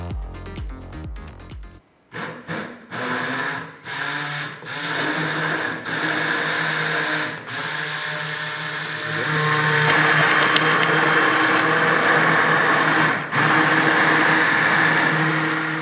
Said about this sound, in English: then used the hand blender to ensure a good mixture